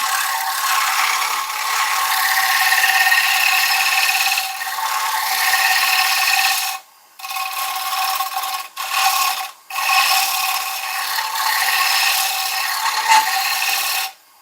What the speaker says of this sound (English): let the lathe actually spin the wood and let the gouge cut it